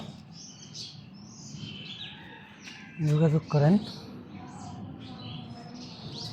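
Faint chirps and soft calls from domestic pigeons kept for sale flutter in the background as someone speaks briefly near the middle.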